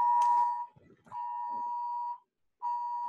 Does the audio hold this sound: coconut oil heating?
no